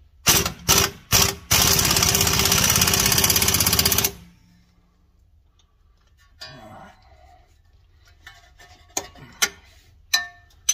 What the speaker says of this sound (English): there goes the wrench again